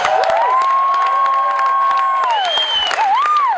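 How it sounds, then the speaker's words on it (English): An audience at a 2013 international festival applauds and cheers its outgoing student government president and vice president, steady crowd clapping with sustained whoops and shouts running loud throughout. "let's give a big round of applause to Albert and Rich,"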